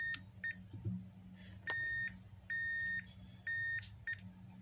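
A high electronic multimeter continuity beep sounds repeatedly in steady sustained tones on a circuit board capacitor, each about half a second, with short gaps and faint clicks between.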